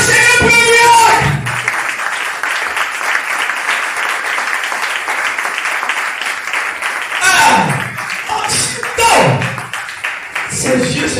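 A church congregation breaks into sustained, dense applause during a service, steady and close, with a voice speaking over it at the start and shouts and talk rising again near the end.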